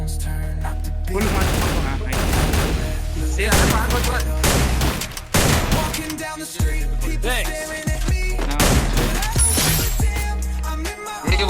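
Rapid bursts of gunfire and explosions from a battle-royale style video game during a tournament grand final match, loud and dense throughout with overlapping shots and brief pauses.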